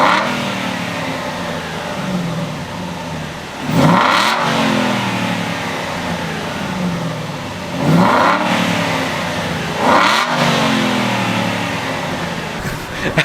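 A 4.3 litre V8 in a crash-damaged Aston Martin Vantage idles indoors and is blipped three times, each rev flaring loudly and then dropping back to a steady burbling idle.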